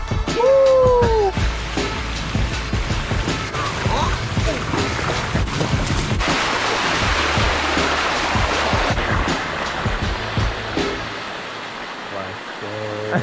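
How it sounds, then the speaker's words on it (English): Rushing water from a waterfall and smaller cascades fills the scene as a loud, continuous roar, close and steady, with a brief voice near the start. "Walking through all these mini waterfalls."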